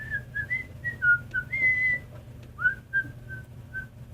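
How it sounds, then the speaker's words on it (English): A person whistles a short wandering tune at a tabletop role-playing game, clear bright notes rising and falling alone over a low background hum. "Are you whistling like in character?"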